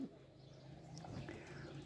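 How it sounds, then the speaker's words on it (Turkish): Domestic flock pigeons coo in a low, continuous murmur near a loft, steady and moderately loud, with a faint background hiss. "Dilerseniz ilk önce Uçuracak olduğumuz güvercinlerimizi çıkaralım."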